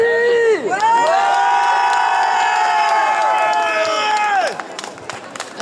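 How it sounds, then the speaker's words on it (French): At an anti-vaccine-pass street protest in Besançon, a crowd cheers with a long, loud, wavering whoop that rises and falls, over scattered clapping and shouting that fades near the end. "On l'applaudit."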